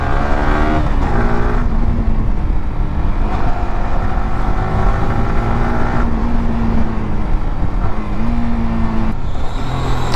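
Yamaha R15 V4 motorcycle engine revving loud and close at high RPM with variable valve actuation engaged, a steady strained whine that shifts pitch with gear changes.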